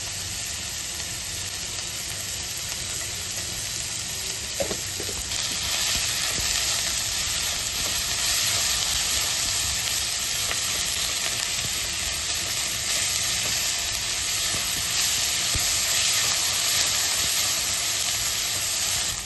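Onions fry with salt in a pan for egg chop, a loud, steady hiss of sizzling oil with one brief utensil tap early on. The hiss swells slightly partway through.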